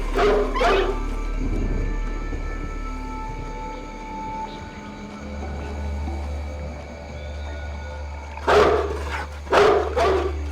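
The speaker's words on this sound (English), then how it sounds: "Somebody needs to either train this mutt or cut its vocal cords. Listen, if you bark all the time, we won't know when there's a real danger." A dog in the stealth video game Splinter Cell: Pandora Tomorrow barks in a couple of short bursts at the start and again near the end, over a steady low hum and ambient game noise.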